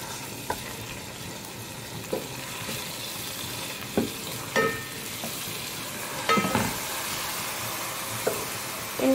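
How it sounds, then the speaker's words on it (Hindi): Spices dropped into very hot oil for a chicken pulao, giving a steady low sizzle with occasional spatula knocks and scrapes against the pan, close and moderate, with no voices. "ये जी तेल काफ़ी गर्म हो गया है और प्याज तो पहले से ही लाल है तो इसलिए हम पहले प्याज नहीं डालेंगे पहले ये तीनों चीज़ें डाल देंगे"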